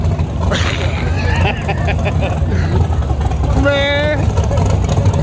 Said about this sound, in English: What in the funny car is that?